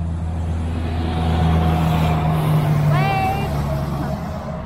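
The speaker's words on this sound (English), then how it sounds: "and an occasional loud truck." A loud truck roars past close to a campsite in a Mississippi state park, its engine drone swelling and then fading, with a brief squeal of brakes near the end.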